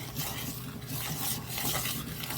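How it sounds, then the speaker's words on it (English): A spoon stirs strawberry jam in a pot, giving soft, steady scraping and gentle bubbling patter, close and quiet with no voices. "I'll give it a little stir just to make sure I didn't miss any."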